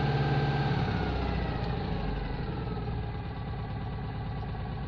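A Citroën 2CV engine runs steadily at a fast idle, revs held up, a continuous low, throbbing hum with no break or change in pace.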